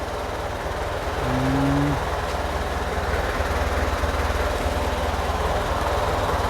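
A Ford tractor engine idles quietly and steadily while its hydraulics lift a plow, a low even rumble running throughout with a brief tonal whine from the lift partway through.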